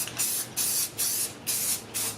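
Satin black 2X spray paint hissing from an aerosol can onto car wheels, five loud bursts about a quarter second to half a second each, separated by brief pauses.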